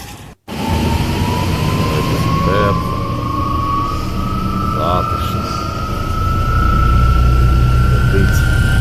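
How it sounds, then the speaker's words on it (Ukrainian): Trolleybus number 56 pulling up on a street in Saltivka, Kharkiv, its electric motor whine rising steadily over loud street rumble, with a voice talking over it. "О, і мій тролейбус 56 їде"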